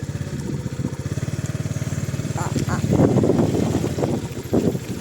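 A manual motorcycle engine runs with a steady close putter and a rise in revs, wind buffeting the microphone, while someone talks over it on a diversion road.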